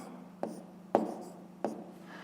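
A pen writes math answers on paper, three sharp taps of the tip with short scratching strokes between them, close and quiet, without speech.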